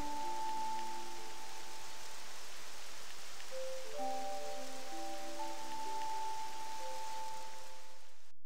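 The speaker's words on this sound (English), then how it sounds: "Rain." Continuous rain patter in Octopath Traveler II forms an even wash of noise across the whole stretch, under sustained musical notes that shift partway through, with no one talking.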